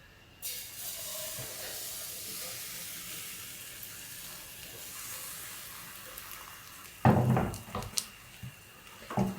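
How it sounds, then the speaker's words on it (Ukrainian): Crepe batter sizzles and hisses steadily in a hot pan, with louder crackling bursts toward the end as more is poured or moved. "І смажимо, як зазвичай, звичайні млинці."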